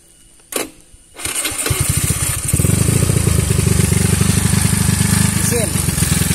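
A carbureted Honda Beat 130 scooter, ridden daily without maintenance, is cranked and starts after a brief clatter, then settles into a steady, rough, clattering idle close to the mic, with a voice speaking over it.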